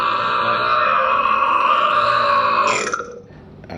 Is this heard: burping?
yes